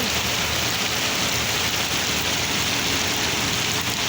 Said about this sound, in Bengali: যে পরিমাণে বৃষ্টি হচ্ছে খুব বৃষ্টি হচ্ছে